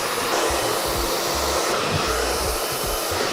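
A hair dryer blows steadily and loudly throughout while blow-drying hair after a side-part flip haircut, a continuous airy roar with no talking.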